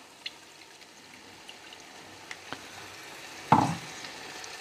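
Chicken leg masala stirred in a pan after a splash of water and salt: a quiet, continuous sizzle with occasional spoon clicks, then a sudden louder burst of hissing and bubbling.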